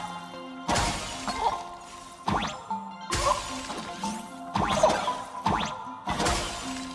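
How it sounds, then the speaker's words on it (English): Ice shattering in Honkai: Star Rail, a string of loud crystalline smashes and bursts, each a sharp crack followed by tinkling debris, coming in quick repeated waves with brief gaps between them. "The ice shattering is very satisfying."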